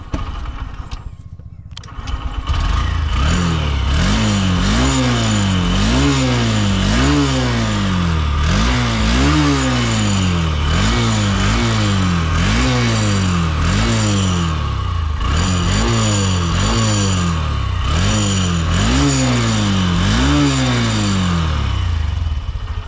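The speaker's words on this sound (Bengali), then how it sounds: "এখন হন্ডা সাইন এসপির যে ইঞ্জিন সাউন্ডটা একটু শুনিয়ে দিচ্ছি" A Honda Shine SP 125 motorcycle's 125cc engine idles and is repeatedly revved up and down, sounding loud and close with a steady rhythmic rise and fall of pitch.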